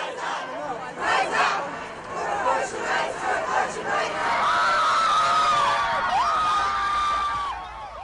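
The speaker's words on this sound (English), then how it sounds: "protesters and advocates on both sides marching, chanting, cheering, or decrying that decision." A crowd of protesters at a rally over the Roe v. Wade ruling chants and cheers loudly, with rhythmic shouted phrases giving way to sustained whoops and screams, continuous and close.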